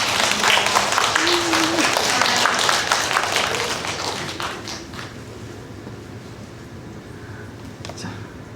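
A church congregation applauding during a New Year Sunday worship service, a dense burst of clapping that fades after about four seconds into quieter room noise.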